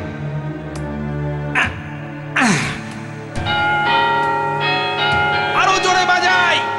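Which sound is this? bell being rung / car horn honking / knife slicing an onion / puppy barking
bell being rung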